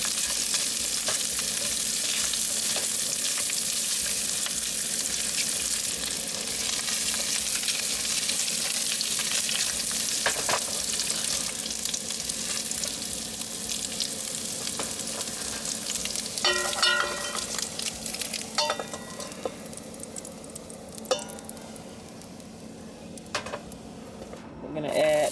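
Sausage sizzles steadily in a skillet while a utensil stirs it, scraping and clinking against the pan now and then, with the crackle staying close and continuous throughout.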